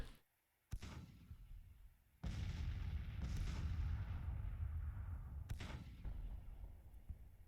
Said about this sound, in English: Our artillery's engaging.